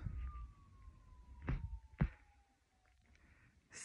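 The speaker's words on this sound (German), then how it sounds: "Und ich höre nichts, außer die Sirene jetzt im Hintergrund." A faint siren drones far off on a nearly windless island, holding a slowly falling tone under quiet outdoor ambience and broken by a couple of close thumps.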